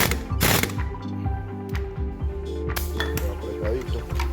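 A ratchet wrench clicks rapidly and tightens a part on an AKT Dynamic 125 motorcycle while its charging system is being replaced, with loud close metallic ratcheting and clanking in short bursts.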